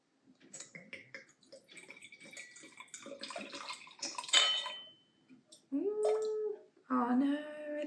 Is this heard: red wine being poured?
yes